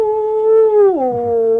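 A single sustained wolf howl used as a radio drama sound effect, loud and close, holding a steady tone before dropping in pitch partway through, with no voices over it.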